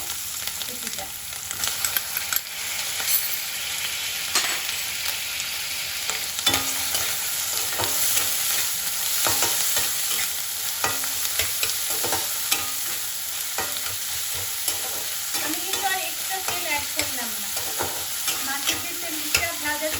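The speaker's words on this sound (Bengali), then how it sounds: "সেই তেলেই কিন্তু আমি ভালো করে এটাকে মশলা ভেজে ভালো করে ভেজে দেবো" Spices and tomato fry in leftover fish oil in a pan for a tilapia curry, with a steady sizzle and frequent close scrapes of a spatula stirring, constant throughout.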